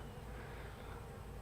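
Honeybees buzz over a brood frame of capped cells during a hive inspection, a dense, steady drone held close and even throughout.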